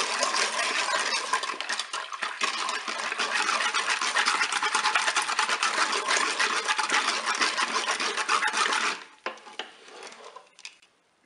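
Milk and cane and powdered sugar are stirred in a Cookeo pot, a steady bright scraping and swishing that runs for about nine seconds, then stops, leaving a few faint clinks and quiet.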